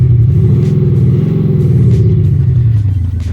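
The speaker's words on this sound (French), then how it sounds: "grâce à l'Active Sound System, je vais avoir un bruit de moteur V8 biturbo" A diesel car's Active Sound System plays a simulated V8 biturbo engine note: a loud, deep, continuous rumbling drone that swells and eases slightly, heard close up with no other sound.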